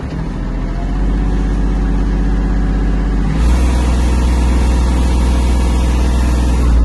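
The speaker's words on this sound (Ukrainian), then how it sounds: "Давайте ще покажу вам мінімальну швидкість трактора" A Kubota GL-260 mini tractor engine runs steadily at minimum speed, a loud, continuous low drone with a slight shift in tone partway through and no talk.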